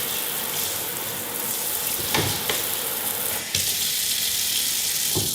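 Steady running water from a tap pours into a stainless steel kitchen sink, a continuous hiss with a few brief clinks and splashes, no voices.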